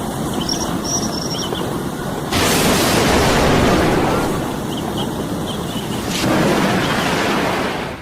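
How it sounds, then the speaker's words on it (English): A heavy rainstorm with broad, loud roaring noise of pouring rain and gusts, surging in two intense bursts over a continuous downpour, with faint high chirps in the background. "Ladies and gentlemen, rainstorm"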